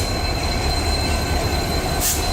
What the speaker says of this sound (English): Here you see the Dadar Chennai Egmore Express with the diesel over electric